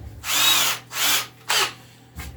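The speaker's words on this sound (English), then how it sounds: "now I'm hitting it with the countersink" Power drill driving a countersink bit into holes in a table saw crosscut sled, three close, loud bursts of whirring grind separated by short pauses, then a brief fourth start at the end.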